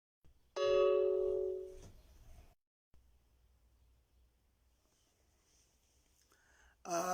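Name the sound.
doorbell ringing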